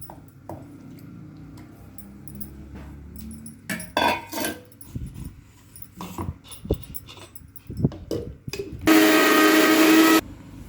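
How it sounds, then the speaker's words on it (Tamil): A mixer grinder grinds tamarind into a paste for a garlic pickle, with a loud steady whirring burst of about a second near the end that follows scattered clatter and handling noises. "இப்போ இதில் புளியையும் அரைச்சிட்டு வந்துடுவோம்"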